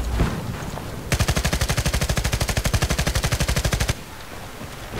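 Full-auto MG36 fire in the video game Battlefield Play4Free: one long burst of rapid, evenly spaced loud shots lasting almost three seconds, with quieter ambience before and after.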